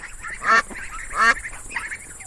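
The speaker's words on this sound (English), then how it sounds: "D for duck." Two raspy duck quacks about a second apart, followed by a softer third call, over faint background noise.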